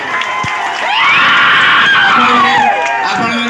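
An audience at an Odia comedy show cheers, whoops and claps in a loud, sustained burst, with shrill shouts rising above the crowd noise.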